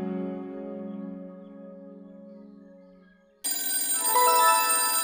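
A sustained tone slowly fades, then a telephone abruptly starts ringing loudly with a bright, rattling bell.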